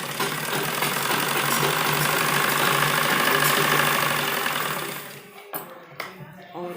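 A sewing machine stitches a baby frock with a steady, fast mechanical whirring and rattle that runs for about five seconds, then stops, leaving a few soft handling clicks and knocks.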